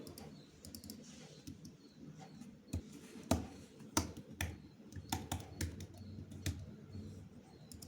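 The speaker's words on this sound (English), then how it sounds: "Type in the keystroke." Keys clicking on a computer keyboard as a shortcut is entered in DaVinci Resolve 20 editing software: a few separate, crisp taps at low level against a quiet room background.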